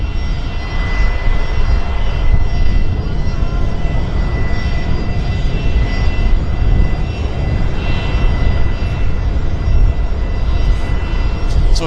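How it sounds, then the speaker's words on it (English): Boeing 737 landing at Vancouver Airport in strong winds, a loud, steady jet engine roar with gusting wind rumble running the whole time, with no talk. "737-200 landing."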